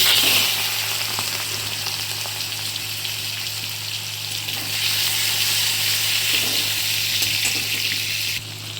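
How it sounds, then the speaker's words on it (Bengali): Prawns fry in hot oil with a loud, continuous sizzle that swells slightly midway and stays dense and steady throughout, dropping a little just before the end. "প্রথমে তেল দিয়ে দেবো, চিংড়ি মাছটাকে ভেজে নেব।"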